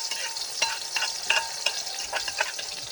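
Food fries in hot oil with a steady sizzle, punctuated by sharp crackles and the clink of stirring, fairly close and alone without voices.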